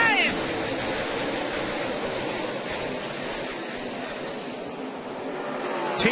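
NASCAR stock cars at the Coca-Cola 600 in Charlotte on Memorial Day, a dense pack roaring past at speed as a steady broadband engine wash, with a commentator talking over the noise.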